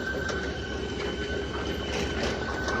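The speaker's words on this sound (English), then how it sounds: "I got the processor running and then the conveyor turned on, and it's pretty cold. It's squealing pretty good." A firewood processor's conveyor squeals in the cold: a steady high-pitched whine sits over a continuous rumble of machinery running close by, with no talking.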